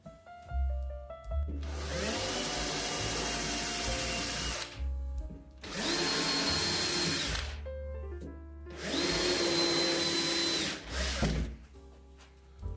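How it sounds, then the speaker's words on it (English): Power drill boring pilot holes for screws in a bathroom: three loud close bursts of whining motor, each a couple of seconds long, separated by brief quiet gaps with a low hum. "So all we're going to do is just do a little pilot hole into these so that we can put the screws in."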